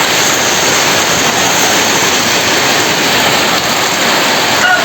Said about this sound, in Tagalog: Sobrang lakas na naman ng ulan.